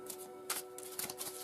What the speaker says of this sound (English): So I'll just give this deck a last minute shuffle.